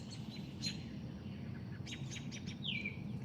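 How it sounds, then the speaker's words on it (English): Several birds chirp and call outdoors at night, scattered short tweets with one clearer call near the end over a steady low background hum, no voices. "Sounds like a jungle behind you. You have a lot of birds."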